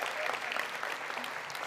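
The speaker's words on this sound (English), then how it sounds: "That's all right, you can applaud." An audience at a school district State of the District address applauds in a brief, steady wash of clapping from many hands, moderately loud and continuous.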